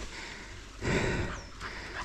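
A dog barks or yelps once, close and fairly loud, on a steep off-piste mountain bike trail, with a short panting or whimpering sound after it.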